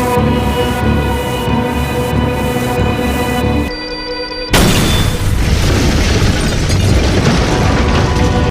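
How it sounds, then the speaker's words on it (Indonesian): A suicide bomb detonates in a film scene set at a police station, a sudden heavy boom that cuts through a tense droning soundtrack and leaves a broad, roaring rumble hanging afterward. "ledakan bom bunuh diri pun terjadi"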